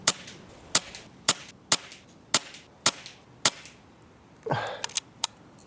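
An air rifle fires a regular series of about ten sharp, close shots spaced roughly half a second apart, each a crisp crack with a short tail, with a brief rustle near the end.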